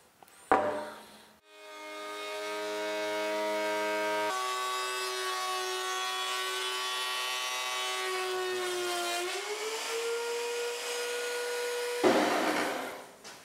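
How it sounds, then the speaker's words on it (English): A wood planer shaves a board with a new dust collector hooked up, producing a loud, sustained whining hum that starts with a thump, then shifts pitch slightly and winds down at the end, with no voices. "The planer is very loud."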